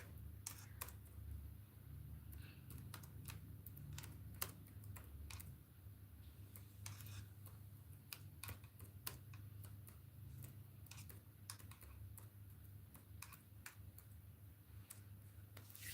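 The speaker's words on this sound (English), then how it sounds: "I'll be typing before you guys say hi." Quiet, irregular clicks of typing on a computer keyboard come in bursts, with short pauses, over a low steady hum.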